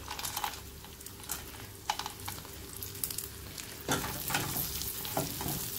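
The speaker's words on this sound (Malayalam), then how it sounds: "നമുക്ക് ഫ്രൈ ചെയ്ത് വെച്ചിട്ടുള്ള കട്ട്ലറ്റ് ഇട്ട് കൊടുക്കാം." Fried chicken cutlet pieces tumbled into a sticky Korean fried chicken sauce and stirred, with scraping and clacking against the pan over a low sizzle, the stirring growing busier and louder toward the end.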